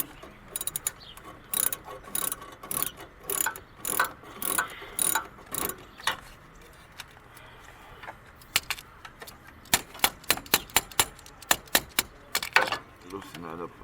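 A ratchet wrench clicks in short bursts on a 10mm battery terminal bolt of a 2016 Toyota Corolla, the quick runs of metallic clicks repeating, then a denser, rapid series near the end.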